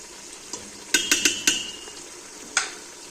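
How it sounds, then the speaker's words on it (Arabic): Couscous ingredients with red pepper, harissa, turmeric and salt being stirred in a pot: a handful of quick metallic scrapes and clinks of a spoon against the pot, fairly close, over a low sizzling background with no talk. "نخلط المكونات الكل مع بعضها"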